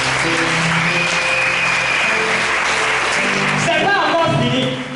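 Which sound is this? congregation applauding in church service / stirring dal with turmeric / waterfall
congregation applauding in church service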